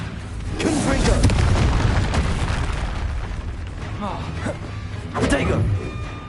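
A Confringo spell in a video game detonates in a deep booming blast, followed by a second burst near the end, heavy low rumble between the hits.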